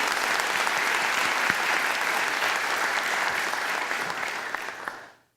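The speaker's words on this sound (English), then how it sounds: "So let's please give them all a round of applause." Hearty applause rises from the audience at a University of Oklahoma law school convocation, a steady dense wash of many hands clapping that holds evenly before tapering off quickly at the end.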